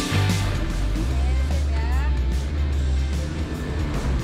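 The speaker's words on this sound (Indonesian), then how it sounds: "Ini mobilnya agak stuck di tanjakan pertama, karena memang batuannya besar-besar." An off-road car stuck on the first steep climb over large rocks, its engine droning and straining loudly and continuously, with someone talking over the noise.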